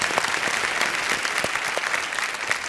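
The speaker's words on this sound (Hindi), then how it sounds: "तालियों के साथ इनका स्वागत।" A studio audience on the Indian quiz show KBC applauds a contestant, a dense, steady patter of many hands clapping at even loudness throughout.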